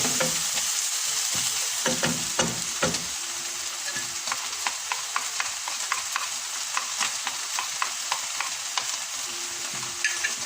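Onion and chili frying in a pan for a beef coconut roast give a steady close hiss of sizzling oil, broken by repeated scraping stirs and light taps of a spoon.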